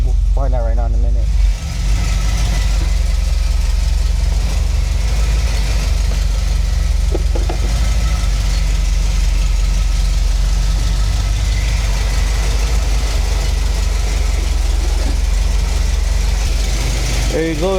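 A full-size lowrider car idles in a home garage, its engine a loud, steady low rumble that continues unbroken throughout.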